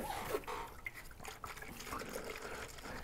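Hot water and dish soap are poured into a container to soak electric chainsaw parts for cleaning, a quiet, uneven trickle and splash with faint background noise.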